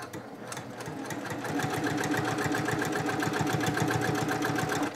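A sewing machine stitches binding in the ditch on a quilted Merry & Bright project, a fast, steady, close rattle of stitches that picks up slightly after the first second and runs continuously.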